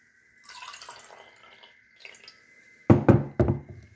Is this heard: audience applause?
no